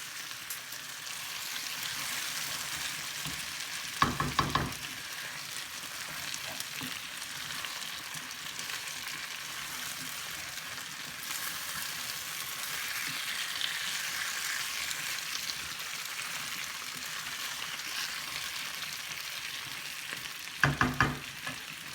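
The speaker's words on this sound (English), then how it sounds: "So when the pindya are half cooked, you add your potatoes in. Stir it in very, very slowly, just fold it in." Pindya and potatoes fry in a pan with a steady, broad sizzle throughout, and two brief bursts of stirring or scraping occur near the beginning and again near the end.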